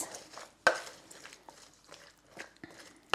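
Sausage casserole ingredients are stirred in a slow cooker. A spoon scrapes and clanks against the pot, with several sharp knocks and softer sliding sounds at close range.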